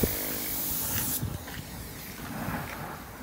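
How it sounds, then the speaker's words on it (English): A car being spray painted, likely at a Jamaican roadside or body shop, giving a steady, loud, broad hiss that runs throughout and shifts slightly in tone partway through. "they're spraying the car"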